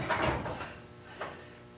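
A rolling tool chest drawer slides with a short scraping rush, then gives a fainter thump or clack a second later, heard close with no voices.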